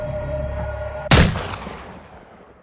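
A single loud gunshot rings out in a Call of Duty Warzone story cutscene, a sudden sharp crack after a steady humming backdrop, followed by a long reverberating tail that fades away.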